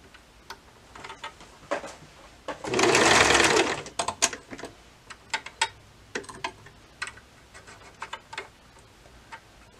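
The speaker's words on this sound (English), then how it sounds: "I'm going to go ahead and just sew around." Serger-style sewing machine stitching elastic onto an adult swimsuit: a dense, steady whirring burst of about a second and a half, surrounded by scattered ticks and clicks of handling the fabric and machine, with no talk.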